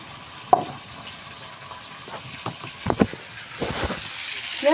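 Pork with spices and red chilli frying in a pan while being stirred, with a soft sizzle under irregular scrapes and clinks of the utensil against the pan, some sharp and close.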